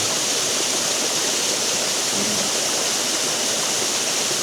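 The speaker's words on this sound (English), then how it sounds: "Focus on the bottom waterfall there, on the ledge." Blairskaith Linn waterfall roars steadily and evenly, a dense wash of falling water with no pauses and nothing else audible.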